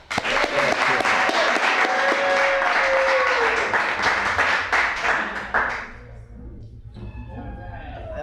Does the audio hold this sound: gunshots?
no